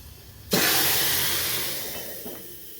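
Dal (varan) poured into hot tempering with curry leaves for dadpi phodni: a sudden loud sizzle bursts in and holds as a broad steady hiss, slowly fading, with no voices.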